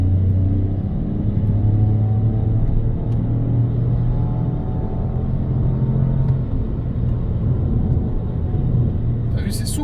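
A 2020 Peugeot 208 PureTech 100 with EAT8 automatic gearbox pulls away out of a bend, its engine a steady, smooth low rumble heard from inside the cabin, continuous and moderately loud throughout.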